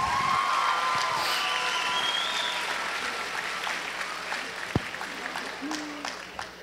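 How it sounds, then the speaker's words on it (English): A homecoming crowd applauds steadily after a person is introduced, a sustained wash of clapping with a few cheers and whistles mixed in. "Give him a round of applause, please."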